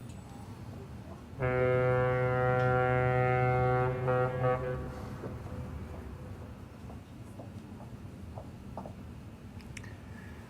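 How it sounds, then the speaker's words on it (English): A deep, steady foghorn blast sounds for about three seconds, loud and resonant, then cuts off, leaving faint ambient noise with scattered small clicks; the foghorn repeats a long blast every two minutes in fog. "It's foghorns. A long blast every 2 minutes."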